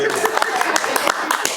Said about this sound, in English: Everybody gets an applause.